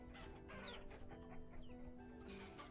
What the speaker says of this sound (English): Hey, rooster.